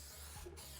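A roughly 70-year-old vintage aerosol can sprays in one short burst, a faint, close hiss over steady background noise, with no talking.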